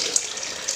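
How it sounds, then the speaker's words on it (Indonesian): Water from a small spout pours steadily into a tarpaulin pond kept for goldfish, a close, continuous splashing trickle with no talk. "Cuma dikasih nah pancuran seperti itu aja kawan-kawan, supaya ikan kokinya gesit-gesit kawan-kawan."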